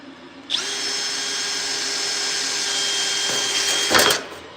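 A power drill whines steadily for several seconds at close range, its pitch holding level before a harsh grinding burst as the bit bites through metal on a K5 firewall.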